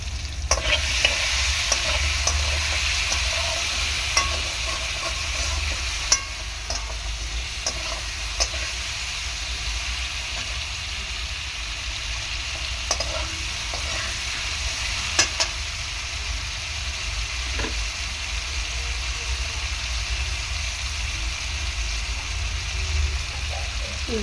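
Potatoes sautéing in a pan for a Bengali mustard-paste fish curry with eggplant, a steady close sizzle and frying hiss with occasional stirring scrapes and clinks, with no voices.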